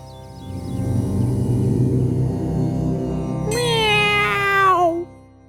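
A cartoon cat posing as a sage in a forest lets out one long, drawn-out meow near the end. It is loud and close over a steady low background drone, likely voiced by a performer.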